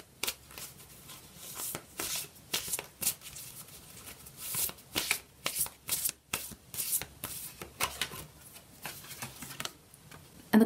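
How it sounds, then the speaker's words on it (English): Oracle cards being shuffled in repeated soft, rapid riffling bursts with brief pauses between them, close and fairly quiet, no talking. "I'm shuffling the cards off the camera today because I have a very, very tight shot"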